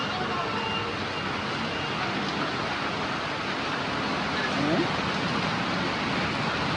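Steady rain pours down as a dense, continuous hiss, even and unbroken throughout, with no pauses or voices.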